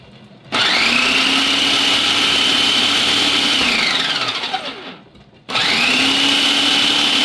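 A food processor whirs loudly and steadily during cleaning, winding down to a stop and then starting up again, with no talking over the motor.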